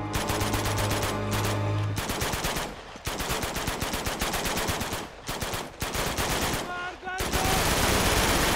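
Rapid gunfire in the video game Uncharted 2, with loud automatic bursts repeating in quick rhythm, broken by a few short pauses and one longer gap before the shooting resumes.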